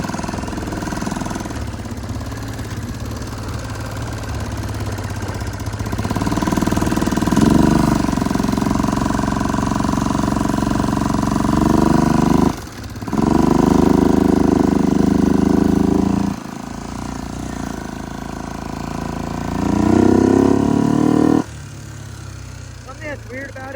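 A 2005 Arctic Cat 400 4x4 ATV, its four-wheel drive stuck on, runs steadily and loud, with the engine note stepping up in distinct surges and brief dips as it moves through the gears. There is no talk.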